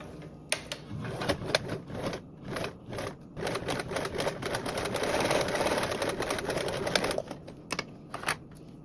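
A sewing machine stitches a 1/4 inch seam allowance on a blanket backpack, running in short bursts of fast, clattering needle strokes with pauses between, then a longer steady run in the middle.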